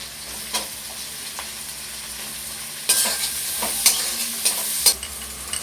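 Chopped onion and curry leaves frying in a pan, a steady soft sizzle with scattered sharp scraping and stirring clicks, moderately close and with no voices.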